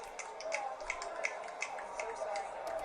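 A crowd snaps fingers in place of clapping, a quick scattered run of sharp, dry clicks at moderate distance over a soft murmur of voices.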